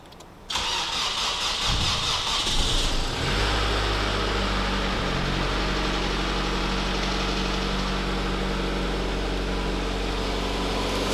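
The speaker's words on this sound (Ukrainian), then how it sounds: "Пробуємо запускати, масло я залив." A Nissan Almera's engine cranks briefly, catches and starts, then settles into a steady, loud idle that runs on without interruption; no one speaks.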